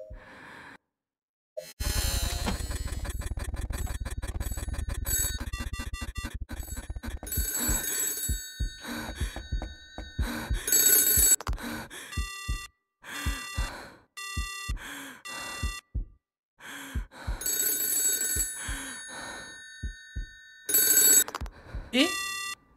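Old-fashioned telephone bell ringing in the 3D horror game Absolute Fear -AOONI-, repeated loud rings in separate bursts with pauses between them, some sounding like distorted tones, and a voice heard at moments.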